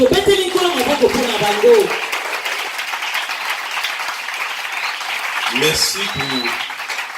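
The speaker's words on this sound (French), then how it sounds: "J'aimerais vraiment qu'on acclame le Seigneur pour eux." A church congregation applauds and cheers in a sustained wash of clapping that fills the room, with a voice speaking over it at the start and again near the end.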